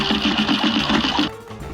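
An attack sound from a pink brain boss in the Cuphead video game, a rapid mechanical rattling pulse repeating about five times a second for over a second before cutting off into softer tones.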